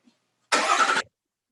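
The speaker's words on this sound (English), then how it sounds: "So I'm going to go and start the truck up now" A truck engine cranks and catches in a service bay, one short burst of about half a second, loud and close, with no talk.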